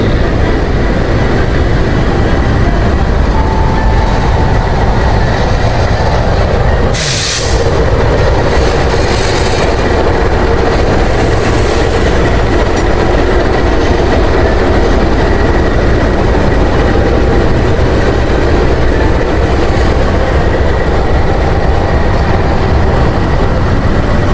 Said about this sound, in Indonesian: lokomotif dinas kita 206-107 sedang melakukan adat ritual berputar posisi